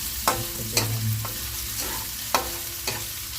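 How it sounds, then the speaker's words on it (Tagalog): Pork pieces fry in hot oil in a pan with a soft, steady sizzle, broken by several sharp knocks of a utensil stirring and scraping against the pan. "Kapag inuna po natin yung pork, magtatalsikan po ang ating mantika, masakit pa naman sa balat."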